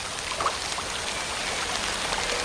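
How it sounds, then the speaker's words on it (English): Heavy rain falls in the Amazon rainforest, a dense, even hiss of downpour with scattered droplet patter, steady and close throughout. "It usually only rains once a day, but when it does, it pours."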